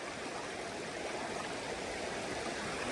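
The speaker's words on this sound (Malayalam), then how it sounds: "അപ്പൊ നമ്മുടെ വെള്ളച്ചാട്ടം വന്നത് അവിടെ നിന്നാണ്," Water flows in the stream below Powerscourt Waterfall in County Wicklow, Ireland, a dense, steady rushing roar heard close and unbroken, with no voices.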